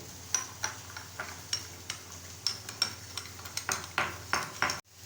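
A spoon stirring a vinegar, salt and sugar mixture in a small bowl, giving a soft, regular series of scraping and tapping strokes close by, ending with a sharp knock.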